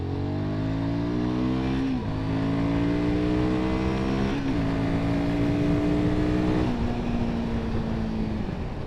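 Royal Enfield Guerrilla 450 motorcycle accelerating through the gears, engine note climbing steadily then dropping at each of three shifts, loud and continuous with wind rush.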